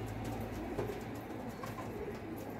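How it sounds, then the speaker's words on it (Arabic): Pigeons coo in a steady, continuous chorus, with repeated low cooing calls held at an even level and no talking over them. "انا بجيب له الحمام"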